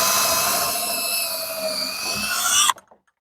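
A drill with a 1/8-inch bit whirs steadily into wood for nearly three seconds, pre-drilling for a gate latch, with a rough grinding edge, then cuts off abruptly, leaving a few faint clicks.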